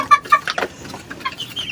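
Hens on a small farm cluck close by, a few short throaty calls in quick succession followed by softer scattered clucks.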